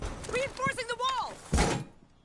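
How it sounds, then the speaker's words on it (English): A heavy thud and metallic clank as a wall is reinforced in Rainbow Six Siege, a single loud close impact that trails off quickly after a short stretch of talk. "Reinforcing the wall!"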